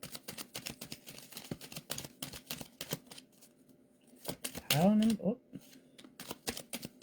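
A tarot card deck is shuffled in rapid, crisp riffling bursts, with sharp clicks repeating through the clip and a brief spoken exclamation partway through.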